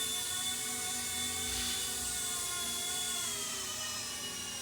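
An MD500 helicopter lands in the wind, its rotor and engine making a steady, whining drone with a faint rhythmic beat. The sound stays continuous and fairly loud, with no voices.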